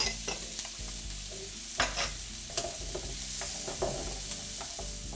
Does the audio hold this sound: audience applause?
no